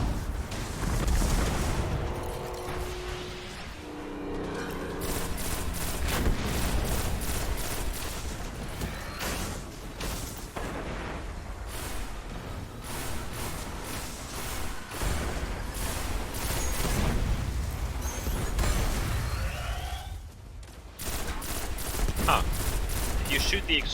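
Sustained gunfire in the video game Destiny, including a burst-fire sidearm: dense rapid volleys and booming shots run almost without pause for the whole stretch, loud and close, with a voice over it at times.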